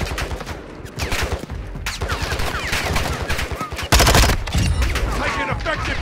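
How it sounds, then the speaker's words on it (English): Rapid gunfire in a Call of Duty Modern Warfare 2 DMZ match in Al Mazrah, with dense bursts and heavy impacts throughout and a sharp loud blast near the end, under a radio voice. "Taking effective fire!"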